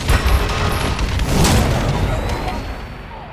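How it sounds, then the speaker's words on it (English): A friendly bombing run in Call of Duty Advanced Warfare pounds the map with loud, close booming explosions that roll together over a few seconds, then taper off. "Friendly bombing run clearing away."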